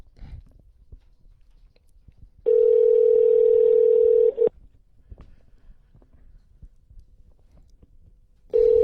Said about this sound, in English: Well, Ronnie, answer the phone